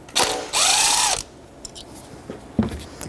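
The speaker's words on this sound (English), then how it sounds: "10mm socket. Undo the mounting bolt." A ratchet with a 10mm socket undoing the ignition coil mounting bolt on a 2006-2012 Toyota RAV4, heard as two close, loud clicking ratchet bursts, followed by quieter taps and a short knock.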